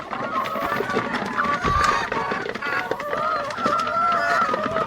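Chickens clucking and squawking while being fed on a small farm, busy overlapping bird calls with scrambling movement, moderately near, with a person talking at times over the flock.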